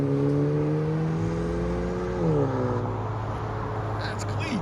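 2023 Genesis G70 2.0L four-cylinder turbo sedan with a Vibrant catback, resonator and muffler deleted, revving steadily, the pitch dipping midway and then holding, loud and close while a voice talks over it.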